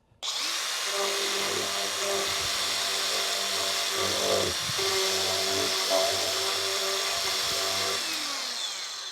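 A DeWalt DCG410VS 20-volt variable speed grinder runs continuously, a loud, steady high whine that holds nearly unchanged for several seconds, close by, with no talk.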